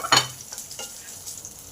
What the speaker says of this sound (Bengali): রসুন আর লঙ্কা কুচিকে ভালো করে ভেজে নেব।